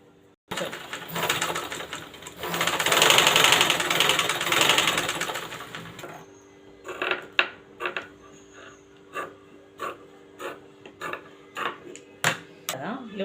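Sewing machine stitching a collared blouse, a loud continuous run of rapid mechanical stitching for several seconds, then stopping and giving way to scattered clicks and short bursts of handling.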